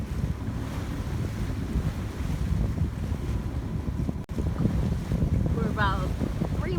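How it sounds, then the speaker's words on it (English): Wind blowing across an Island Packet 320 sailboat motoring into a headwind off Key West, a steady rushing roar with buffeting on the microphone and water noise, continuous and close, with a brief dropout and faint voices near the end. "Wind's picking back up a little bit, right on the nose, so we can't sail obviously."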